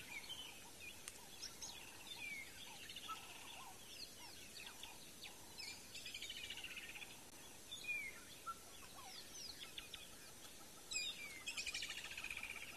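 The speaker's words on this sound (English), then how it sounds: "even though we can't see many birds, we can hear very many birds." Many birds chirp and call at once at sunrise on safari, a layered chorus of tweets and whistles drifting from various distances in a quiet outdoor setting.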